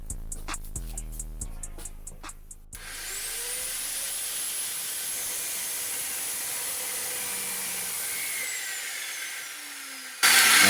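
A cutoff wheel saw slices through steel desk legs with a loud, steady, harsh grinding whine that runs for several seconds, after softer rhythmic knocking, then gives way to a brief burst of louder noise at the end.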